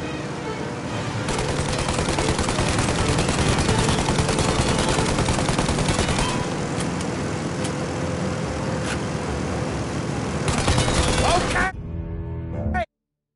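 Sustained heavy gunfire from the Mafia Definitive Edition video game, loud and dense for about eleven seconds amid vehicle noise, ending abruptly; there is no speech.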